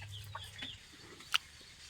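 Farm chickens on a free-range rural plot, fed papaya and neem leaves, cluck softly at a distance over a low steady hum, with one brief sharper squawk near the end and no talk.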